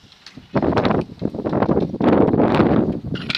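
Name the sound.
wind blowing outdoors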